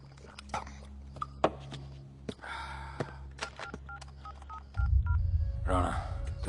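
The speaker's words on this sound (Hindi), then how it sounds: "फोन" Telephone keypad dialing tones from a Hindi action film, a series of short separate beeps over a low steady hum, with a brief dog whimper and a rising burst of noise near the end.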